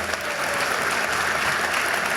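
Audience applause at a comedy show, a dense, even clatter of many hands clapping at once, sustained loudly for a couple of seconds.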